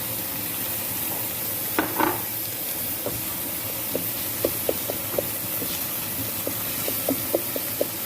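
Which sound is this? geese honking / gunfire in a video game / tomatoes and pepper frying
tomatoes and pepper frying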